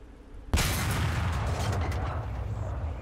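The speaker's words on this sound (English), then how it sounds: "R2 is fire for the main cannon." Tank main cannon fires once in the War Thunder video game, a sudden loud boom followed by a long rumbling decay that fills the rest of the moment, with no talking.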